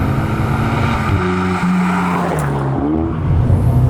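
A car driven hard through corners, its engine note rising and falling in sharp sweeps as it brakes and accelerates, loud and close with a faint tyre squeal, no talk.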